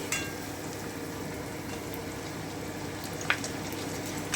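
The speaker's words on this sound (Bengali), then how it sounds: "আমি ভেজে নিচ্ছি যতক্ষণ টমেটো কাঁচা গন্ধটা চলে না যাচ্ছে" Tomatoes cooking in a pan with fried onions give off a low, steady sizzle and bubbling, with one faint clink partway through and no talking.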